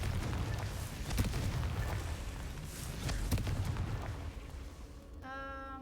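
A Confringo fire spell erupts in Hogwarts Legacy as a dull, rumbling burst of blasts that rolls on for several seconds before dying down beneath a short chiming game sound.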